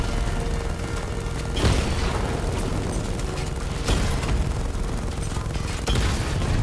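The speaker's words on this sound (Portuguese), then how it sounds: "Então, tá, um monte de míssil neles." Missile blasts and gunfire from the Batmobile in Batman: Arkham Knight, a dense, continuous wash of rumbling booms with sharper bursts recurring roughly every two seconds, loud and without talk.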